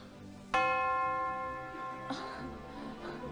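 A single bell tone, the kind used as a school bell signal, strikes once and rings on with a sustained, pure sound. It fades into background murmur and rustle during a staged school-themed idol variety show.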